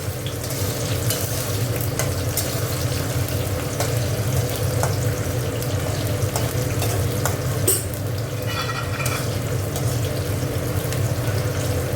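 Chopped onion, dried chillies and nigella seeds frying in hot oil, a loud continuous sizzle with stirring and scraping close by, alone without voices.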